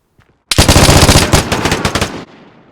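A loud burst of automatic gunfire in the video game Vigor, close and rapid, a sustained stream of shots lasting under two seconds before cutting off into quiet.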